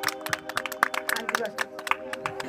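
A church congregation claps at a Christian healing service in praise of Jesus Christ, with scattered, uneven claps over a voice and a steady tonal background.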